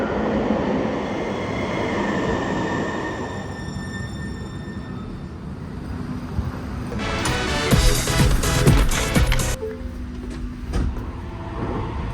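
Seattle Link light rail train at a large station, a low rumbling roll that fades, then a clattering burst of wheels and rail noise with squeals before settling, no talk.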